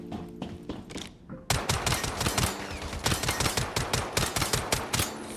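Pistol gunfire in the PC and mobile looter shooter Lost Light: a few spaced shots, then a fast, steady string of sharp, punchy reports, loud and close, with no talking.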